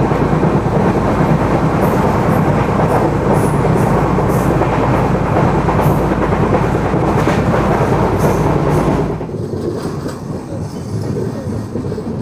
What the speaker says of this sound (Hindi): इंटरसिटी पास हुई ना उसके बाद अपनी ट्रेन को यहाँ से निकाला गया